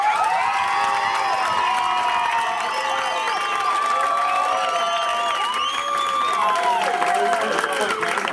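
A comedy contest audience cheers, whoops and applauds to vote for a comedian, a dense, sustained roar of many voices with excited shouts layered over continuous clapping.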